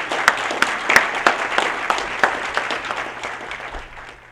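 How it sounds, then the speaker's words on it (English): Audience applause welcoming a lecturer at a lecture series event, a steady wash of many hands clapping that tapers off gradually, heard alone. "Please join me in a warm and welcoming applause to Ms."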